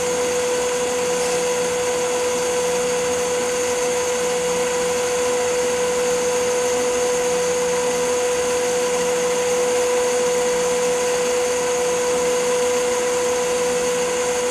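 A wood lathe spins a wine goblet, making a loud, steady mechanical whine with a sustained tone that holds unbroken from start to finish, with no speech.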